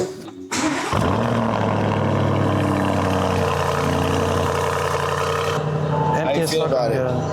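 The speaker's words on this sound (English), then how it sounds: "You want to hear a cold start?" A Lamborghini Urus fires up from cold after a brief starter crank, settling into a loud steady idle with a deep rumble, before a voice speaks briefly near the end.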